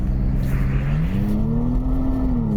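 A Toyota 4Runner TRD Pro with stiffly sprung Fox shocks is driven along a rally stage. Its engine drones steadily, close and loud, and the pitch rises as it gathers revs over road and wind roar.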